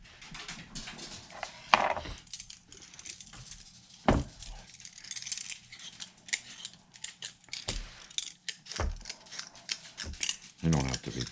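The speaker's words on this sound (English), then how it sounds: "now it's time to peel some potatoes" Potatoes are peeled by hand for a slow-cooker beef stew: quiet, irregular scraping strokes and a few sharper knocks of peel and utensil, close by, with occasional faint speech.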